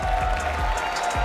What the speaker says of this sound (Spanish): Primero este aplauso al tribunal